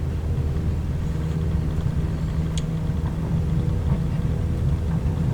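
A bush plane engine runs at takeoff power in Microsoft Flight Simulator 2020 on a single grass runway airfield, a steady loud droning rumble with no breaks and no talk.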